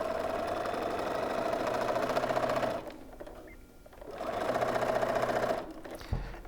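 A sewing machine stitches a triangle-in-a-square quilt block unit in two close, steady whirring runs separated by a brief pause, then stops with a small thud.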